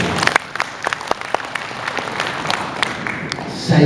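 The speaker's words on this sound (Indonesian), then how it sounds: "Tepuk tangan Bapak dan Ibu." An audience of teachers at an Indonesian education gathering claps in a loose, uneven patter of individual hand claps rather than a dense roar, moderately close and continuing for a few seconds.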